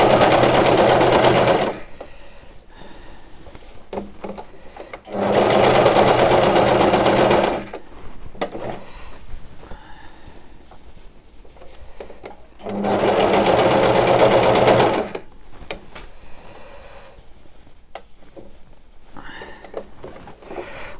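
Domestic sewing machine stitching a sweatshirt with the foot pedal pressed, running in three steady whirring bursts of a few seconds each, separated by quieter gaps of handling and fabric rustle.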